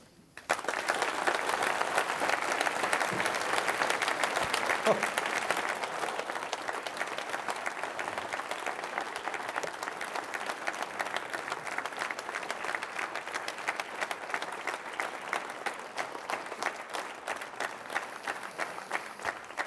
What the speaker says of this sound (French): merci pour vos applaudissements.